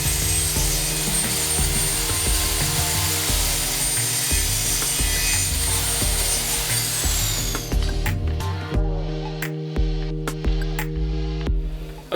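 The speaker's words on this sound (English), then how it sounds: "Now I'm going to re-square my left and right piece ends by just slicing as little as I possibly can using my readjusted chop saw angle here" Chop saw trimming wooden window sill pieces for a tiny house: a continuous loud whine of the spinning blade biting into wood, then winding down into a series of clicks and knocks as the pieces are handled.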